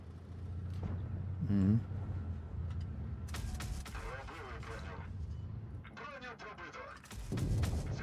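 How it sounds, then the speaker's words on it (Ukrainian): Cannon fire from an AC-09V Sterope tank in the video game WoT Blitz: one heavy booming shot stands out, followed by more game battle noise, under steady commentary from a player. "Проти вісімок він щось тут стріляє."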